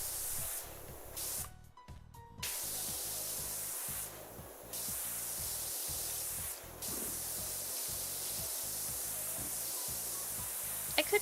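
A pressure washer sprays continuously in the cleaning video game PowerWash Simulator 2, a steady broad hiss. Brief interruptions break it as the trigger is released and pressed again, and a low rhythmic background pulse runs underneath.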